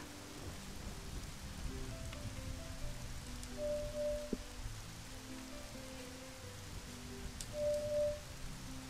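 Steady rain with soft distant thunder in the video game The Legend of Zelda: Majora's Mask, a continuous even hiss of falling rain alone, with occasional short electronic tones over it.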